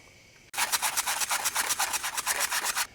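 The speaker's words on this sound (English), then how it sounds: "take some 80 grit sandpaper and just trying to remove some of that rust before installing your new rotor" Brisk back-and-forth scrubbing with 80 grit sandpaper on a rusty brake hub before fitting a new rotor, a loud, close rasping rhythm of about twenty quick strokes starting abruptly after a quiet moment.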